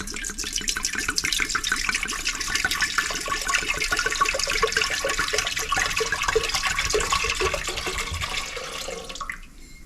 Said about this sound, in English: I'm just gonna pour the whole bottle of red wine in here.